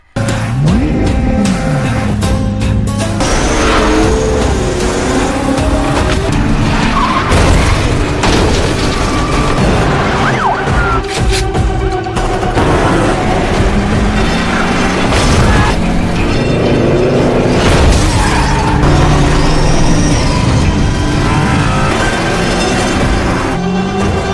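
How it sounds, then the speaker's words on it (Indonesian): A film car chase ending in a crash that rolls the car over, heard as a dense, loud, continuous mix of booms, crunching impacts and mechanical noise, with no talking. "Sampai mobil David dan Ashok terlibat kecelakaan yang membuat mobil mereka terguling"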